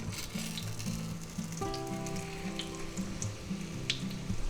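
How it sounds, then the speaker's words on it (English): Eggplant slices for eggplant parmesan sizzle and fry steadily in a pan, a close, continuous crackle with a tonal hum joining partway through, and no voices. "Now we're going to fry them up for about 3 minutes on that side"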